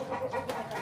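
A backyard breeding hen gives a brief, soft clucking call, heard alone and up close.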